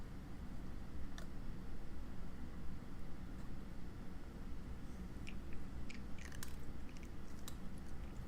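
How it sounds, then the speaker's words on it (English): Crunchy chewing, soft and close, with a few sharp crisp bites and crackles scattered over a steady low hiss, more frequent toward the end. "Oh, that was a good crunch."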